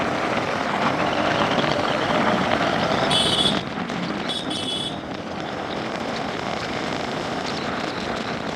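An LPG-converted TVS Apache RTR 160 motorcycle is ridden at speed, giving a steady, loud engine drone mixed with rushing wind. A few short high-pitched tones cut through briefly midway.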